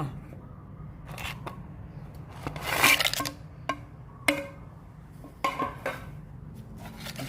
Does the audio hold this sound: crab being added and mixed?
yes